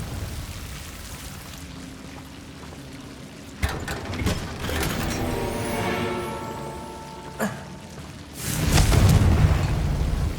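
Confringo blasting spells in Hogwarts Legacy burst in a few sharp cracks followed by a louder, rumbling explosion near the end, with ringing tonal sweeps between them over a hissing background.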